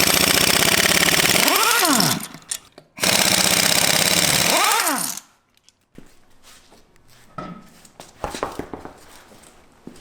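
Wheels come off a Jeep JL Wrangler as an impact wrench rattles loudly in two sustained bursts, each rising and falling in pitch, followed by quieter clicks and handling noises.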